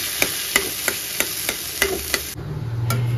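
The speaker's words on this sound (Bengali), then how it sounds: "আর এইদিকে আমি একটু বাঁধাকপিটা গরম করে নিচ্ছি।" Cabbage curry being reheated in a pan, with a run of evenly spaced scraping stirs, then a soft steady sizzle.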